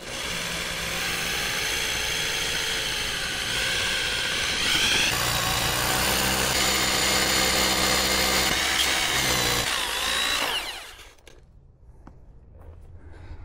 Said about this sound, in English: I'm gonna shift the frame out of the way and start drilling my holes